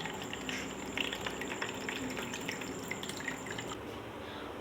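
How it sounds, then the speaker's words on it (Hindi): Boiled mint liquid being strained, a steady trickle and patter of dripping water, soft and continuous, with no talking over it. "देखिए बस अभी मैं छान लेती हूँ पुदीने को अच्छी तरह"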